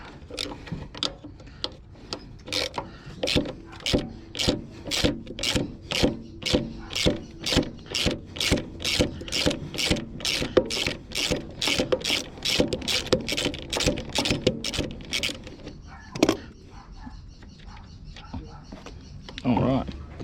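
Removing bolts from a Briggs and Stratton Cheetah ride-on mower, with a rapid run of sharp, evenly spaced ratchet clicks, close and crisp, then a pause and a few scattered clanks.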